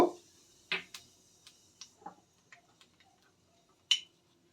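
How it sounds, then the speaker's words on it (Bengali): Nigella seeds (black cumin) tempering in hot mustard oil in a kadai give off scattered sharp pops and crackles, a few louder snaps among fainter ticks, against an otherwise quiet kitchen. "কালো জিরে ফোড়ন দিয়ে দেব"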